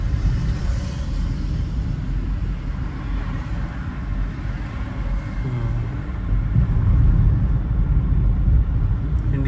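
A car rolls along on a basic driving lesson in Chandigarh, a steady low engine and road rumble filling the cabin with no voices, swelling slightly louder toward the end.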